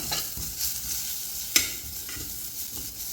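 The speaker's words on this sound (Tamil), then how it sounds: "இதில் வந்து நான் மசாலா போட்டுக்கிறேன் கொஞ்சமாக பெருஞ்சீரகத்தூள் போட்டுக்கிறேன் கொஞ்சம் வத்தல் தூள் கொஞ்சம் மல்லித்தூள் கொஞ்சமாக மஞ்சள் தூள் போட்டு இதையும் கொஞ்சம் நல்லா வதக்கி விட்டுக்கிறேன்" Ginger garlic paste with fennel, chili, coriander and turmeric powders sautéing in a pan, a soft continuous sizzle broken by repeated spatula scrapes and one sharp clack of utensil against metal, no talking.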